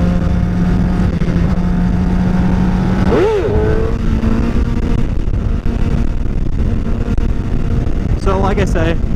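A motorcycle engine revs sharply as the rider pulls a wheelie, with a rising and falling whine at the middle of the clip and a second quick rev burst near the end, loud under steady wind and road noise.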